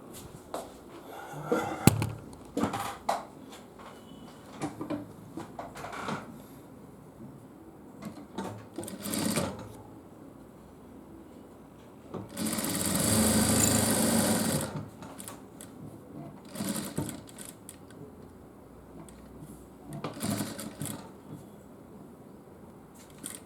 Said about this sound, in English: now I am going to stitch this part